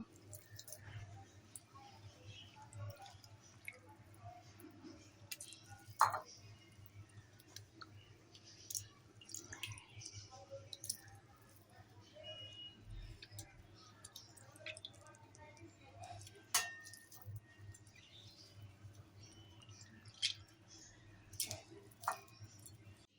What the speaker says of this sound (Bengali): এবার নিংড়ে নিংড়ে আমি এই একটা পাত্রে রেখে দেব।